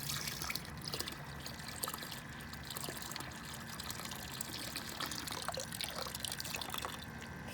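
Water runs into an aquaponics tank, a close, continuous trickling and splashing pour at low level with no voices.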